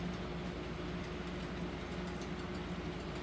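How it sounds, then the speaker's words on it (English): Model railroad train pulled by three closely speed-matched locomotives with a mid-train helper, running in a steady low hum and rumble with a faint constant whine, no talk. "I want to see how reliable I can get this train to run with 3 locomotives that are very closely speed matched at one speed setting"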